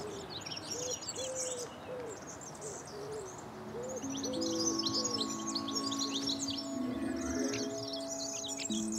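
Small birds, including a flycatcher, whistle from the trees of a historic cemetery, giving repeated short whistled notes at an even pace with thin high chirps layered over them. The calls are moderately near and no one talks.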